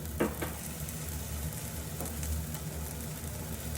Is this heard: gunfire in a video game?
no